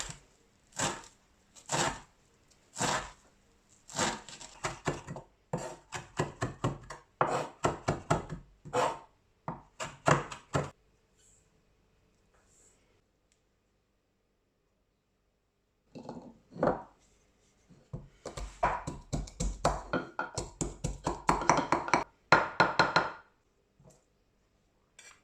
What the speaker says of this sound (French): Je vais hacher le persil et de l'ail.